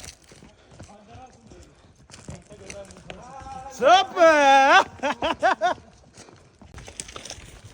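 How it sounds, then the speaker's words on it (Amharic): A ridden horse's hooves clip-clop at a walking pace beneath ongoing talk, with a loud, drawn-out voiced cry and a few short bursts rising midway before the steps continue. "በጣም አደገኛው ፈረስ ይሄ ነው።"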